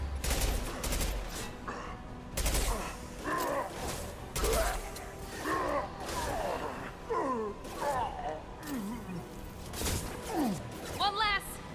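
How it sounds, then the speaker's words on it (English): Gunfire in the Mass Effect Legendary Edition video game, with bursts of rapid shots mixed with combat grunts and effects, while voices talk and shout throughout. "I'm taking fire."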